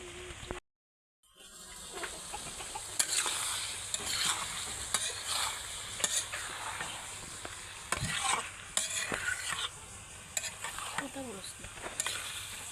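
Food stirred and fried in a wok at home, with steady close sizzling and repeated scraping stirs; a brief silent gap near the start, and no one talks.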